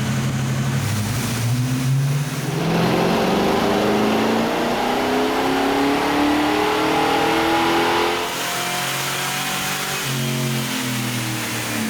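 A black 1985 Ford Mustang GT Fox Body on a dyno, its V8 loud and close, revving steadily upward through the gears in long rising pulls before easing off near the end.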